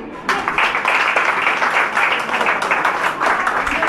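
A crowd of listeners at an adolescent program ceremony applauds steadily for several seconds, a dense, even wash of hand claps without pauses.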